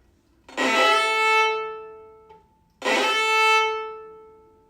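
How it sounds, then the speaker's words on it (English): Two long bowed string notes played with heavy bow pressure, giving a gritty, pressed attack, each swelling and then tapering, separated by a short pause. "If I would press the bow, it will sound like this."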